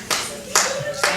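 Single claps ring out at a live show at the Ice House Annex in Pasadena: three sharp claps, evenly spaced about half a second apart, close and distinct, with a faint tone underneath.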